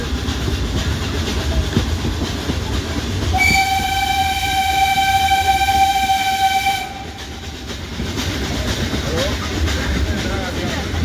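Ooty toy train on the Mettupalayam to Ooty line rumbles along close by, with one loud, sustained horn blast lasting several seconds midway through the steady rolling noise.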